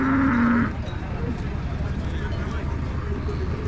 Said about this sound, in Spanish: Ya tenemos vacas frisonas por aquí.